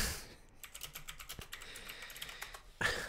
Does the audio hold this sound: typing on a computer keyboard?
yes